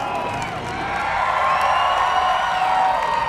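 A crowd cheers and whoops for the Mickey Thompson burnout competition winner at a large one-day Mustang car show, a steady, loud wash of many voices filling the whole stretch.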